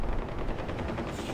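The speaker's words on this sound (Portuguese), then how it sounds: "Tá tendo mó tiroteio aqui." Rapid automatic gunfire in the first-person shooter Far Cry 4 rattles in a loud, dense burst of shots throughout, with no talk over it.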